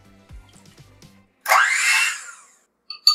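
A hand blender churns through atta bread dough in a short burst of harsh whirring, close and loud, after a stretch of soft low knocks and clatter, with brief clicks at the end.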